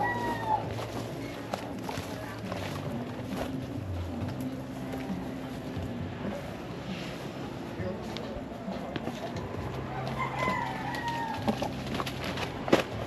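Chickens cluck and a rooster calls in the distance while people talk over a steady outdoor background.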